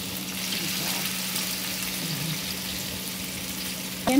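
Onions frying in a pan for a fish curry give a steady, soft sizzle that holds evenly throughout, ending in a brief clatter.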